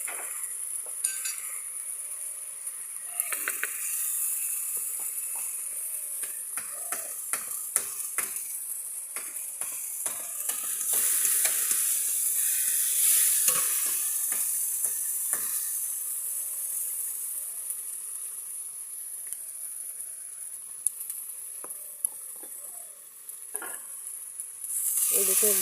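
Potatoes fry in a spiced masala in a pan, a steady sizzle broken by repeated scraping and clinking stirring strokes of a spoon, close and continuous with no talk.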